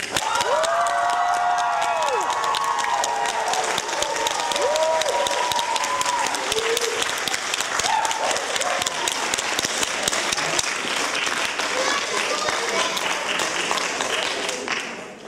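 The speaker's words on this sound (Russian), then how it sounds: "Теперь мы просим аплодисменты для Натальи." A hall audience at a vocal battle contest in Novorossiysk applauds contestant Natalya with loud, continuous clapping that holds steady, while a singing voice and some crowd noise sound early and then fade under the applause.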